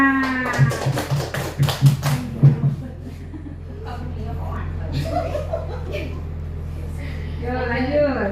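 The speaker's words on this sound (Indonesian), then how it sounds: "Tepuk tangan." A short burst of rhythmic hand claps in a quick patterned beat, crisp and close, stopping after a few seconds in a class setting for Indonesian teacher trainees, followed by quiet room tone and faint background voices.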